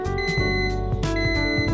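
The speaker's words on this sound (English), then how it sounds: "An alarm will sound when the countdown ends." Countdown alarm on a smoke-free curing oven used for transfer film, a steady pulsing electronic beep pattern repeating rapidly and evenly, clear and close with no speech.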